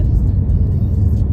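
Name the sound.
car driving over a bumpy road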